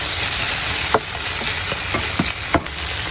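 Cornstarch-coated chicken sizzles in a claypot while being stirred, a continuous close frying hiss broken by several sharp scraping and clinking strokes of the utensil, with no talking.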